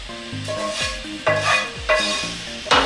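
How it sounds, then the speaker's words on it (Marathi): Hot tempering mixture poured over fried poha for crisp chivda, with a steady hiss and a few bursts of stirring and scraping from a wooden spatula, close and fairly loud, with faint background tones and no speech. "मग यामध्ये आपण हे तळलेले पोहे आहेत ते सर्व मिश्रण जे केलेलं घातलेलं आहे ते हळूहळू याच्यावर ओतायचं"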